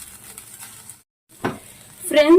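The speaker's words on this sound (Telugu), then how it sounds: "ఈ అల్లం వెల్లుల్లిపాయ పేస్ట్ అనేది పచ్చి వాసన పోయేంత వరకు మనం వేపుకుందాం ఫ్రెండ్స్" Ginger garlic paste sizzles in hot oil in a pan for a paneer tomato curry, a short crackle after a brief pause, then a louder burst of frying as it is stirred.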